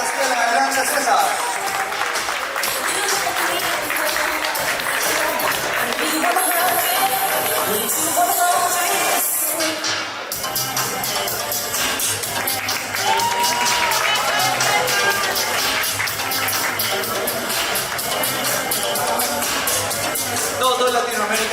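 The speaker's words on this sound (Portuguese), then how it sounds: "Un fuerte aplauso para ellos" Sustained applause with some cheering fills an award ceremony hall as winners are called up at a Latin American gathering, dense clapping throughout and a voice faintly audible beneath it.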